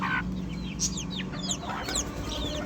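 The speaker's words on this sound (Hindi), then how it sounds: "ये देखें यार ये हमारी वो मुर्गी है जो कुड़क हुई थी।" A hen kept in a backyard cage clucks in short repeated calls, close and clear over a steady background hum, with other birds chirping faintly around her.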